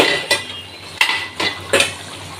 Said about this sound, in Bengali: এই যে ঢাকনা তুলে নিলাম